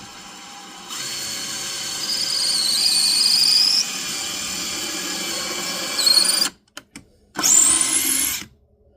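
Cordless drill fitted with an LED light boring into wood while building a bluebird house, a loud steady whirring that rises in pitch, stops, then gives short bursts and one more run before ending.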